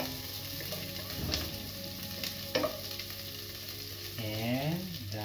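Onion sizzles in a frying pan as it is stirred, with a continuous hiss, a few scraping knocks of the utensil, and a brief rising squeak of the pan near the end.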